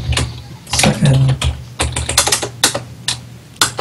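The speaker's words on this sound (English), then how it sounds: "Wow, that is a loud keyboard." Rapid, loud clacking of a computer keyboard, keystrokes in uneven bursts close to the microphone.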